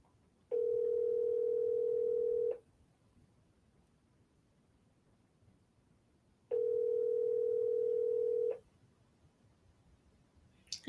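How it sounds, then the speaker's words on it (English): An unanswered phone call rings out in two long, steady electronic tones separated by silence, clear and alone with no voices. "He's not answering his phone, y'all"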